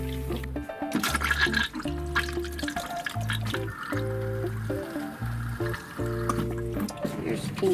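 Hot water with pink antifreeze runs through the plumbing of a Forest River Flagstaff A-Frame camper being winterized, flowing in gurgling, sputtering bursts broken by short pauses and pump hum, with people talking in between.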